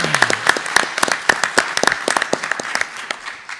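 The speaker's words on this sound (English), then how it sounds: "a round of applause" A room of attendees at a school district board meeting claps in sustained applause for school leaders, dense overlapping hand claps at steady loudness throughout, with no talking over it.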